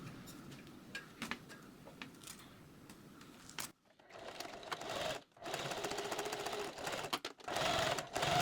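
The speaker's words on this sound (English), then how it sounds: "just sew with a straight stitch and press the seam open" A domestic sewing machine runs a straight stitch in a small apartment sewing room, a steady close mechanical whir with brief pauses and restarts between bursts of stitching.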